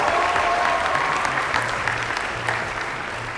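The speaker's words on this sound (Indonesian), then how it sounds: "Tepuk tangan buat Al-Azhar Indonesia" An academic audience at an Indonesian university event applauds steadily, a full crowd sound that gradually softens, with a voice faintly present underneath.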